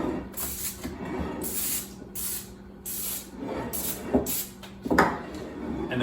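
Paint or coloring sprayed onto a cake in short hissing bursts, several spurts in a row with brief pauses between them, close and moderately loud.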